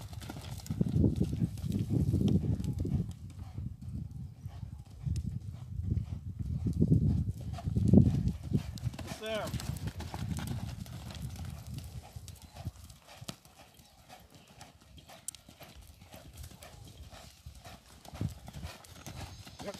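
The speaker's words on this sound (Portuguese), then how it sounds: "Agora eu já começo a galopar em 8." A young mare, three months into breaking, gallops in a figure eight: rhythmic hoofbeats thud steadily at a moderate distance, with a brief snort or whinny partway through and no voices.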